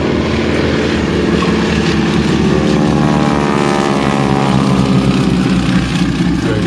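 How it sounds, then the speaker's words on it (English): A wingwalking biplane fitted with a Pratt & Whitney radial engine drones steadily overhead at an airshow, a loud, continuous throbbing engine note that shifts slightly in pitch as it passes. "50 horsepower Pratt & Whitney radial engines, so 4 times the horsepower of the original aeroplane."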